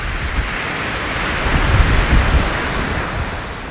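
Rough sea at a Puerto Galera beach, with loud continuous surf and wind rumbling into the microphone, swelling slightly in the middle, and no voices.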